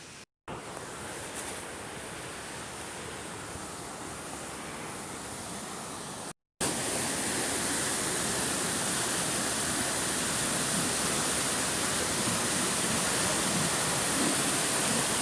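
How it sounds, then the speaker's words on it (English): Loud, steady rush of a fast-flowing stream at Healey Dell Nature Reserve, heavy with water and running on broadband and unbroken throughout, with a brief gap near the start and another just past six seconds. "So as you can see, there's a lot of water coming through today."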